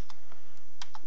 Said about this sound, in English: you're gonna wanna hit the tab key